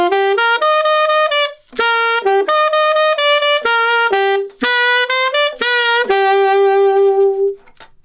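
Solo saxophone plays a short melodic line of distinct held notes and quick steps, ending on a long sustained tone, close and bright.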